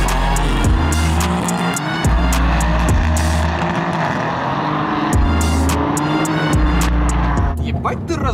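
A BMW M4 drives hard nearby, its engine revving up repeatedly through quick shifts, with bursts of tire squeal over a loud, continuous roar.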